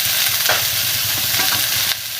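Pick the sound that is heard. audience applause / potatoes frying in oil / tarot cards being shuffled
potatoes frying in oil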